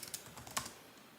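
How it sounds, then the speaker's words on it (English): Short burst of quiet keystrokes on a computer keyboard, a handful of close, light clicks in quick succession without any voices. "So we'll just type that in here, roofing company."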